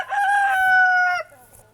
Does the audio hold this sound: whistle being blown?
no